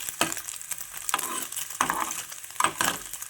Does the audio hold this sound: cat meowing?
no